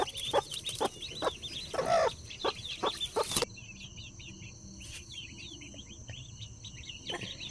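Chickens cluck and chatter in a rapid chorus, with sharp knocks in the first half and a steady insect-like trill behind.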